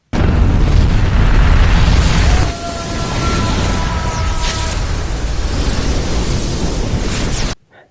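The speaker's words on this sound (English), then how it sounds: "He activates the bomb just as it reaches the sun's surface." A bomb explodes against the sun's fiery surface in a dramatic sci-fi scene, a loud sustained roaring blast that drops after two seconds into a long rumbling fiery wash with faint high tones, then cuts off abruptly.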